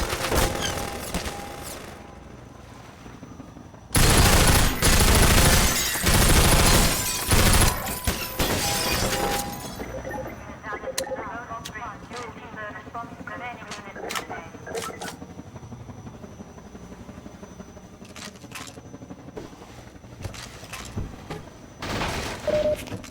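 Half-Life 2 played in VR, with a loud burst of rapid gunfire and shattering impacts that lasts several seconds, then scattered single shots, clatter and ambient game noise, with someone talking over parts of it.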